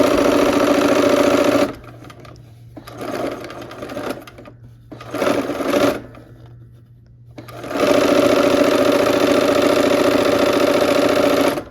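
A sewing machine stitches the last section onto a quilt block, running steadily and loud for about two seconds, slowing to short bursts with pauses, then running steadily again to the end. No one speaks.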